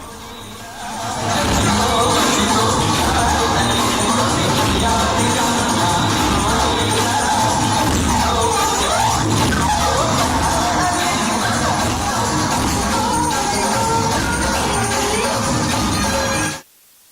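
Devotees crowd a temple during Navratri, a loud, continuous roar of chanting, cheering and shouting voices with scattered bangs, close and dense throughout before cutting off abruptly.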